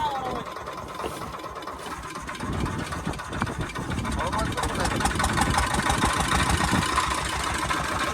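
A fishing boat engine runs with a steady, knocking mid-pitched drone that grows slightly louder partway through, alongside background noise on the river.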